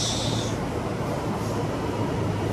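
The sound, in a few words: Delhi metro train arriving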